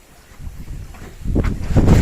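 Outdoor wind gusts push through trees, starting as a low rumble and swelling into loud buffeting bursts near the end, with no one talking.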